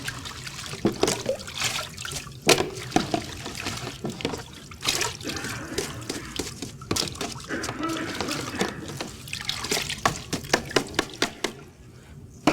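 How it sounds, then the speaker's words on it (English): Parsley swished and agitated in water inside a colander, giving a continuous close splashing and trickling with sharp drips and clicks, while a person talks over it. "Then you take it, agitate it in water. It helps to use a colander sometimes."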